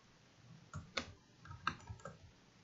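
A few soft, sparse keystrokes on a computer keyboard as an item is typed in, quiet clicks spaced irregularly against a low background hiss.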